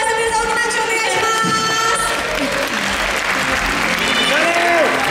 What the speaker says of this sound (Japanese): 皆さん大きな拍手お願いします